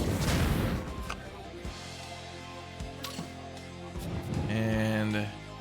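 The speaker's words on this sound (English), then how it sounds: "Hit him with the missile." Missile strikes in a tactical space combat game, a loud opening boom followed by several duller impact thuds and rumbling explosions, with electronic game tones near the end.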